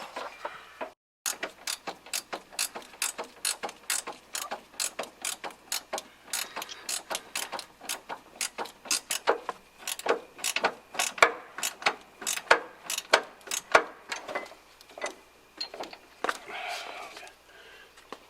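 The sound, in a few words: socket ratchet wrench torquing car suspension bolts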